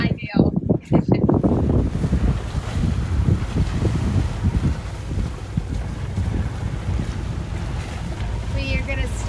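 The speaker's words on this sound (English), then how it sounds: "Now we've got all the wind that we could ever want coming directly at us." Strong wind buffets the microphone on a sailboat heading into a headwind off the coast of Albania, a loud continuous roar with choppy water sloshing beneath, as people speak briefly at the start.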